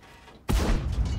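A single heavy cannon blast from an AMX AC 48 tank destroyer in a tank video game booms suddenly after a brief quiet, its rumble trailing off.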